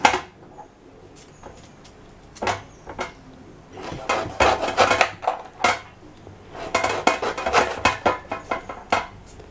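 A rather blunt knife chops tender jackfruit into small pieces on a board, with sparse taps at first, then bursts of quick, close, sharp chopping strokes in irregular clusters.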